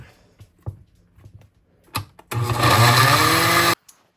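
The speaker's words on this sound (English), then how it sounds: "So this has been blending on medium consistency" A blender whirring through strawberries, running loud and steady for about a second and a half before cutting off, after a few soft knocks and handling sounds.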